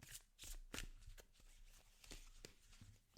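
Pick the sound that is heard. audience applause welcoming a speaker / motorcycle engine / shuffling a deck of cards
shuffling a deck of cards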